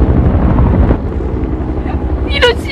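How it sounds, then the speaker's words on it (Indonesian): Rescue team helicopters arrive in a film scene, a loud steady rotor drone filling the scene from start to finish, with faint voices and brief higher calls near the end. "Jun mendengar ada banyak suara helikopter tim penyelamat datang"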